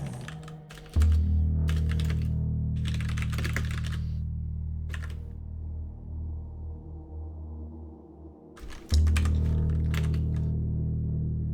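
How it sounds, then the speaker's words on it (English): Computer keyboard typing in quick bursts of clicking keys, with pauses between runs, close and fairly faint over a steady low background hum. "Sorry for the typing noises."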